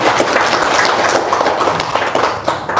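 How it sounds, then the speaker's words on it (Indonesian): An audience at a talk breaks into applause, a dense, continuous patter of many hands clapping together at close range throughout. "Boleh tepuk tangan dulu dong"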